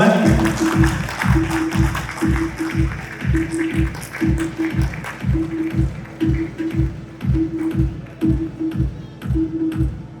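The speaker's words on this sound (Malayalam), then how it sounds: "ഒരു നല്ല കൈയടി for this moment." An audience at a grand launch event claps in a steady rhythmic beat, loud and close, repeated sharp hand strikes in unison continuing throughout while people speak over it.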